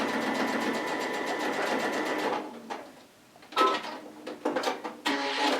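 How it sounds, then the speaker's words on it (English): An industrial sewing machine runs a continuous close stitching pass, double-stitching around the bottom of a set-in sleeve about 1/8 inch in, then stops briefly and restarts in short bursts. "stitch it double, coming in about 1/8 of an inch, and go around that bottom one more time"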